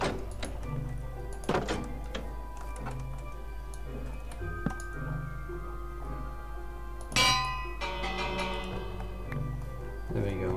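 Minecraft village bell struck in the video game, giving a couple of clanging, ringing hits with a lingering metallic tone and small ticking game sounds between them.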